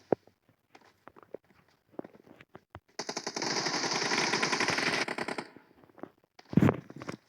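An M4 rifle in PUBG fires a sustained full-auto burst of about two seconds, loud and dense, after scattered footsteps and isolated clicks, followed by a single sharp shot.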